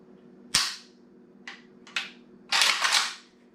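Stiff, new action of a Beryl 7.62x39 M1 Carbine rifle being worked: a sharp metallic clack, two shorter clicks, then a longer rough double rattle, close and alone with no talk.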